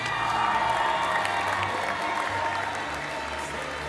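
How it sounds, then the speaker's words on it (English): Crowd applause mixed with cheers and whoops at a FIRST Championship robotics awards ceremony in the Archimedes Division, a steady roar of clapping from a large arena audience that stays strong throughout. "Round of applause"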